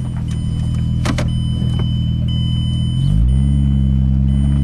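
A Mazda 6 with its transmission stuck in third gear idles with a steady engine rumble and a couple of light clicks, then the engine note deepens and swells as it is put into reverse, close and continuous.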